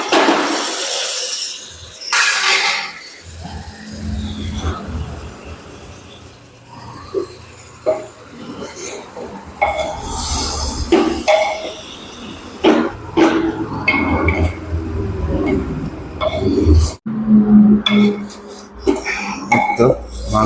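Meat curry is stirred and sautéed in a pot, giving irregular clanks and scrapes of a spoon against metal, with talking and an occasional cough in between.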